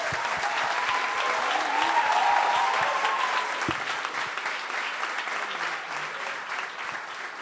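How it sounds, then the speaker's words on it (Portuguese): Sustained applause from a church congregation, steady and dense throughout, with no speech over it. "eu gostaria de levantar uma salva de palmas para Deus por essas pessoas"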